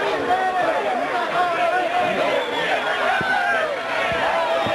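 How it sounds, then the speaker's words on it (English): Lively crowd chatter fills the stands at a 1990 South Carolina state championship high school baseball game, a steady hubbub of many voices at moderate loudness throughout. "Again, a lively crowd here at this one tonight."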